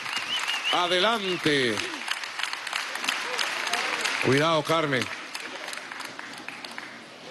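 Audience applause greets a woman called up to speak at a Venezuelan workers' production council meeting. Steady clapping runs throughout while someone talks over it in two short bursts, and it tapers toward the end.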